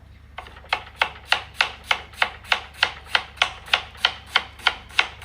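An onion chopped on a cutting board with a knife: about fifteen sharp, evenly spaced cuts in a steady rhythm, close and distinct over a faint background hum.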